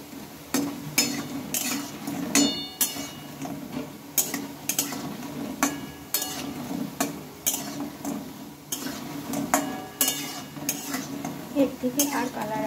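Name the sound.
frying raw banana and lentil fritters in a pan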